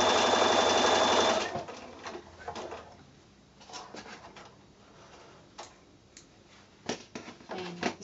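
Sewing machine stitching straight seams on a quilt block: a loud, fast continuous run for over a second, then stops, followed by scattered clicks and handling taps of fabric and tools.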